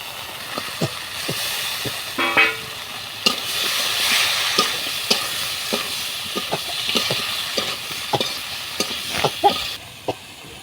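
Fish added to cooked-down spice masala in a pan, frying with a continuous sizzle and hiss, broken by frequent sharp clinks and scrapes of stirring.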